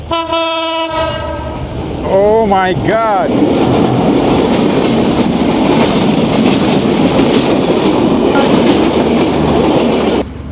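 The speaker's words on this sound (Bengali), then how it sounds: "অন্য পাশে একটা ট্রেন আসতেছে" A train passing on a railway line through a village: a loud horn blast, then a continuous heavy rolling roar with clattering wheels, close and sustained, with a brief excited voice and some talk over it.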